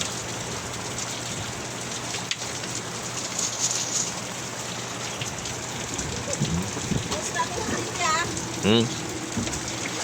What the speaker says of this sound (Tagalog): bumuhos na naman yung malakas na ulan.